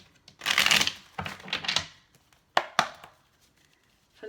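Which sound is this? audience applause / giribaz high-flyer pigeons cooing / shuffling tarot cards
shuffling tarot cards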